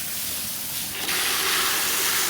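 Tap water gushes steadily into a bowl holding an indoor plant set in a kitchen sink, a continuous close rush that swells louder about a second in and keeps running with no talking.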